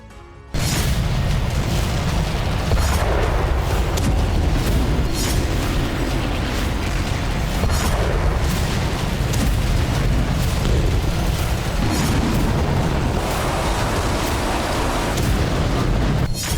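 Explosions from Russian weapons, a dense, continuous barrage of deep booms and blasts that runs loud and rumbling for the whole stretch after a brief quiet start.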